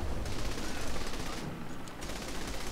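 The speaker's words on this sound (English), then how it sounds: "I'm gonna shoot this one too." Continuous automatic gunfire from the Saints Row The Third video game during a police fight with a helicopter, a dense, loud rattle of shots that fills the whole stretch with no pauses.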